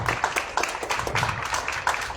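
Audience clapping at a floral tribute ceremony honouring a bust of Luis Felipe de las Casas, a brief burst of moderately loud scattered applause with audible individual claps, fairly close.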